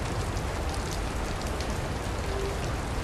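Steady rain falls in the Portland area, a constant fine gray drizzle heard as a dense, even hiss of drops pattering on surfaces, close and continuous with no voices.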